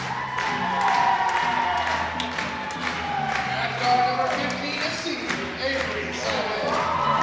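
Crowd cheering and applauding in a gym at a girls' basketball senior night between South Central and Wayne City, a steady roar of voices and clapping with music underneath and an announcer talking over it.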